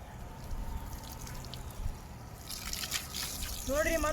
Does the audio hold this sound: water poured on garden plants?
yes